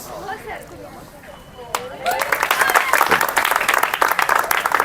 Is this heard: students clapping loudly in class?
yes